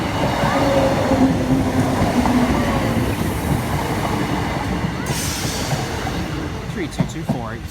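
A train hauled by a locomotive nicknamed the dusty bin passes in the Doncaster area with a loud, close rumble and rolling wheel noise that eases slightly toward the end, while people talk over it.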